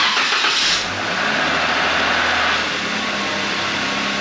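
A 3.6-litre Jeep JK engine from the 2011-2013 years cranks and fires while oil has not yet reached the cams, then runs on with a loud, steady, clattery roar close by, with no talking.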